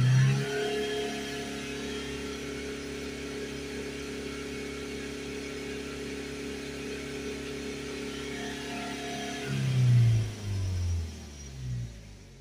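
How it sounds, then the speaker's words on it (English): A BMW 118d with a 2.0 diesel engine and a blocked particle filter holds a loud, sustained high rev under full acceleration, then drops back with a couple of shorter throttle blips near the end. "I'm going to give it some full accelerations."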